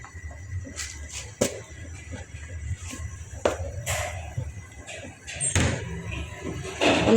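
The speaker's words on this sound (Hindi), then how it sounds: "यहाँ ये दरवाज़ा बंद करो, मच्छर आ जाएगा" A household door being shut in a home in Pakistan, with several sharp knocks and thuds across the stretch, one louder slam-like hit near the middle, over steady low room noise and no talking.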